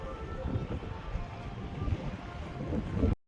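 A tourist boat's low engine rumble near the old jetty at Bet Dwarka mixes with wind buffeting the microphone and water noise, steady throughout, with no voices.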